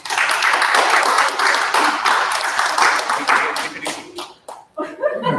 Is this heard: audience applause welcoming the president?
yes